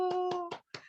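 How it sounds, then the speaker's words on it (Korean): People in a group exercise clap for themselves, giving a few quick close claps over a steady tonal hum, with a short pause before more claps. "나를 위해서 박수"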